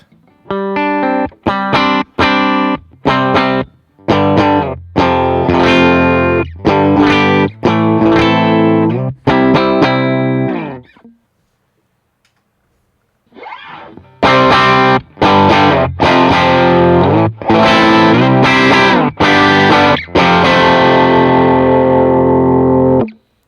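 Clean electric guitar tone through an amp modeler plays chords and picked notes, with a pause in the middle before more strummed chords ring out.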